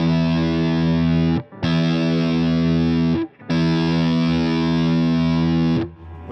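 Distorted electric guitar with the treble pulled back plays three long, loud sustained chords separated by short gaps, thick and saturated with a softened top end.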